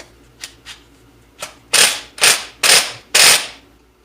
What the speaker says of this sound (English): I'm going to use my impact gun this time.